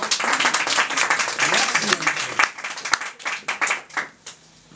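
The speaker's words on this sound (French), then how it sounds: "Je crois qu'on peut l'applaudir." Following a cabaret magic act, an audience claps loudly at first, a dense burst that gradually thins into fewer, separate claps fading toward the end, with some voices beneath.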